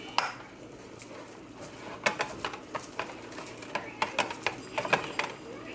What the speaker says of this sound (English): Now that we have mixed our cream cheese with our noodles